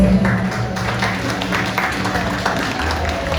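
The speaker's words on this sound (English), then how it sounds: "A heartful applause for all our young patriots" Applause from an audience at a school celebration after a dance by nursery children, a steady broadband patter of clapping over a low background hum, continuous throughout.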